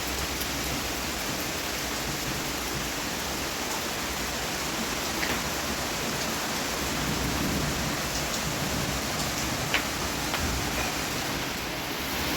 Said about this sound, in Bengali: দেখো বন্ধুরা, কি ঝড় বৃষ্টি হচ্ছে আজকে, দেখেছো?